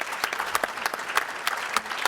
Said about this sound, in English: So a round of applause for having them here for us today